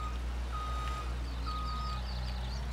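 An old small skid steer moving heavy pallets of seed gives out steady reversing beeps in two long tones over a low, constant engine rumble outdoors.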